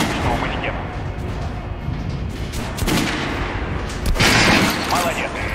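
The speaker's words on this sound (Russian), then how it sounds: "Попробуй выстрелить в центр груди обычного манекена." Gunfire in Metro Last Light Redux, shots aimed at a training mannequin on a range, with sharp cracks and heavier booms standing out over a dense, reverberant game background.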